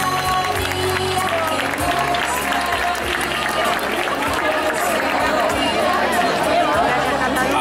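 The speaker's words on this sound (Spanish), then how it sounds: "Un aplauso para los vikingos." At a village festival float parade, a crowd applauds and cheers for the winning Vikings group, with continuous clapping and babble mixed with talk over the noise.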